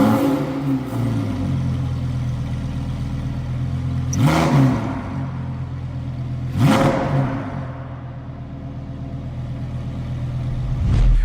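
A Lamborghini Huracán STO engine idles with a deep burble, then is revved hard twice in quick sharp bursts that fall back to idle, close by with no talking.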